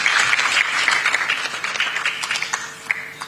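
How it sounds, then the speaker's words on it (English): An audience applauds for Aisha at a teachers' awards ceremony, a steady wash of many hands clapping that thins into scattered claps toward the end. "Another hand clap for Aisha."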